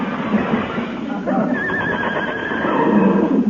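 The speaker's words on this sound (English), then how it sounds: "Heavenly days, a runaway horse in this day and age." A runaway horse neighs in an old time radio sound effect, a loud whinny with some hoofbeats while people talk excitedly over it.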